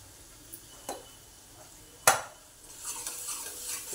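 Coriander-cumin powder stirred and fried in oil in a pan, quiet sizzling with a few sharp spoon clinks against the pan and soft scraping strokes, heard close.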